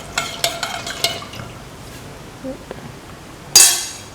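Spoon stirring a chickpea and rice mixture in a pan, with a series of soft scraping and clinking strokes early on, a quieter stretch, then one sharper clatter near the end.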